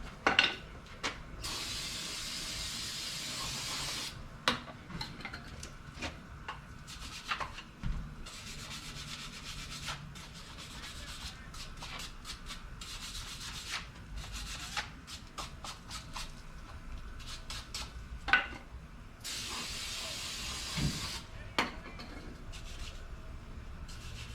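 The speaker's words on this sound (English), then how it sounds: "spraying this with brake cleaner and wire brushing it real quick" Steady scratchy scrubbing of a wire brush on a Chevrolet S10 Blazer part, broken by several hissing bursts of brake cleaner spray, continuing for a long stretch at moderate volume.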